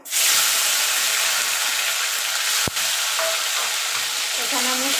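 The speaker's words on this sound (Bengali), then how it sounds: "বাকি রান্নাটা আমি এই তেলেই করবো তার জন্য ফোড়নে দিয়ে দেবো কালো জিরে একটা টমেটো" Nigella seeds and a tomato hit hot oil as a tempering for okra with poppy seed paste, producing a loud, dense, continuous sizzle up close. A brief clack comes midway, and faint clinks come near the end.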